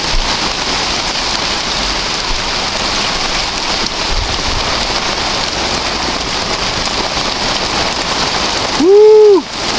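Heavy rain pours down on an allotment, a dense, loud, steady hiss of drops on surfaces that ends in a brief whistling tone near the close.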